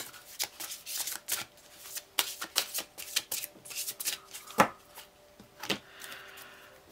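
Tarot cards handled and shuffled at close range, a run of crisp riffling snaps and slaps with brief pauses between bursts, one sharper card flick standing out near the middle.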